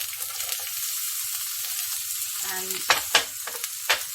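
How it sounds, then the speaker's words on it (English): Chopped onion hits hot oil in a pan and sizzles steadily for spicy stir fry noodles, with a few clanks and scrapes of stirring near the end, close up and without talk. "now that the oil's heating up, I'm going to add the onion"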